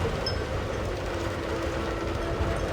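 Train ambience from the train level of the Quantum of Solace video game: a steady, continuous rumble with a faint high whine, no clear wheel rhythm, and no voices.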